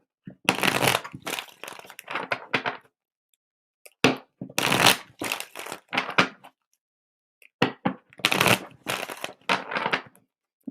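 Playing cards shuffled for a tarot-style reading, several bursts of crisp riffling and flapping separated by short pauses, close and fairly loud with no talk.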